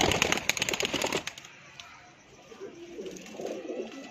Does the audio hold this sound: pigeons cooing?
yes